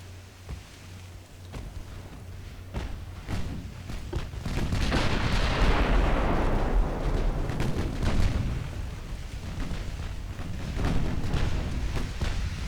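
Cruisers firing naval guns during a battle in the video game Ultimate Admiral Dreadnoughts: a steady rumble of distant gunfire with scattered sharp reports, swelling into a heavy, sustained roar of booms midway.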